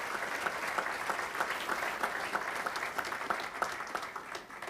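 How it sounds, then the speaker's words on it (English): Sustained applause from a large audience at a Saints Hall of Fame induction ceremony, steady and dense for the whole stretch with no voices over it. "Give them a round of applause"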